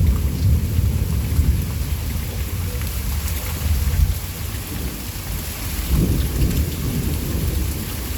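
Thunder rumbles through a steady rainstorm in Pittsburg, Kansas, the low rolling booms fairly distant and swelling twice over the constant hiss of rain, with no talking.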